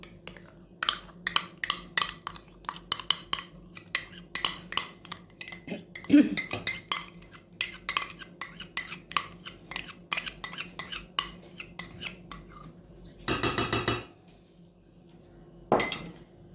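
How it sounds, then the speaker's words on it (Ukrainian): Metal spoon scraping and clinking against a saucepan in repeated bursts as sour cream is spooned in, close by, with a few louder knocks and pauses between scoops. "зараз сметану викладаю у каструльку."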